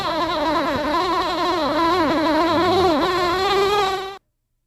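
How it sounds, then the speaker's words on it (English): A recorded honeybee unloading sound for a 360-meter height: a loud, continuous wavering buzz with tones that slide up and down. It runs for about four seconds before stopping suddenly. "360-meter unloading sound."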